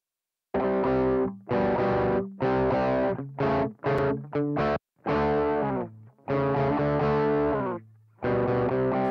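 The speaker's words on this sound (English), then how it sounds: "Not that much distortion." Electric guitar runs through amp modelling on a Boss GT-1000 with the middle frequency nudged up in small steps, producing a mildly distorted tone in a series of sustained chords and short choppy notes separated by brief gaps.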